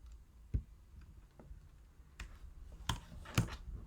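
A computer keyboard's up arrow key is pressed several times, giving sparse, crisp clicks spaced irregularly across a quiet background with no talking.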